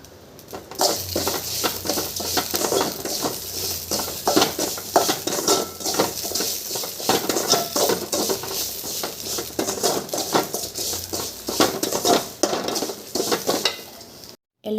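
Dried chillies and half a coconut roasting in a pan for sesame chutney, a spoon clattering and scraping the metal pan in quick busy strokes over a soft sizzle, close and fairly loud, with no voices.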